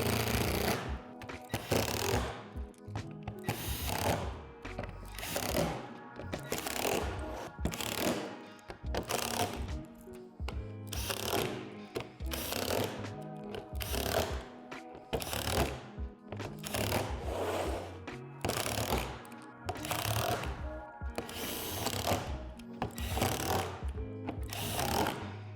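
A power driver drives screws into the window panes of a Lifetime 8 x 5 ft modern plastic shed, giving repeated loud, rattling bursts of buzzing with brief pauses between screws, close by and continuous for about half a minute.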